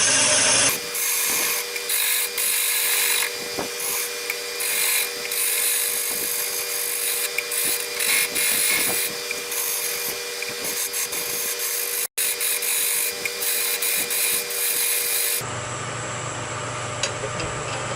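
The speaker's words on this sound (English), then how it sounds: "still using my skew. I'm going to slightly taper" A wood lathe spins a table leg while a skew chisel cuts along it, giving a continuous scraping, hissing whir with brief bursts of rougher cutting, close and loud, before the tone changes near the end.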